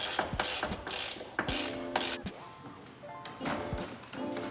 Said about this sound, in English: We got a nice Harbor Freight little torque wrench right here.